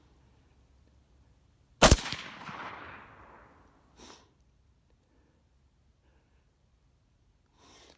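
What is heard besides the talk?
rifle bullet hitting a wild pig at night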